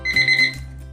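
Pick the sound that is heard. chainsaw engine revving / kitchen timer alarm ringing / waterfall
kitchen timer alarm ringing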